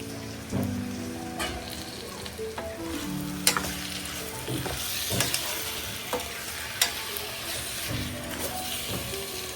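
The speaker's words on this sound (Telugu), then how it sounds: "మటన్ పీసెస్ అన్ని కొంచెంసేపు వేగాలండి" Mutton pieces frying in a pan, with a steady close sizzle broken by clinks and scrapes as a spoon stirs them; no one speaks.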